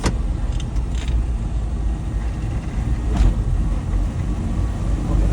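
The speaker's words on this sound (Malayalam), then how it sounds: "അപ്പൊ നമ്മളിങ്ങനെ വണ്ടി ഓടിക്കും" A car driven on the road during a driving lesson gives a steady low engine rumble and road noise from inside the cabin, with faint clicks and rattles over the continuous drone.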